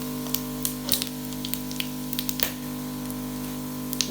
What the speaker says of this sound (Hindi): थोड़ा सा इसमें घी डाला था, तो इनको थोड़ा सा फ्राई करूँगी।